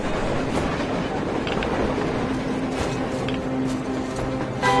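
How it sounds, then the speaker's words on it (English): Train rolling along rails in the video game Metro Exodus, a steady, loud rumbling drone with faint rhythmic clatter running throughout. "Looks like they're chasing that train too."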